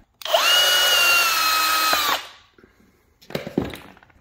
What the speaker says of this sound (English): Just going to use a drill, remove those.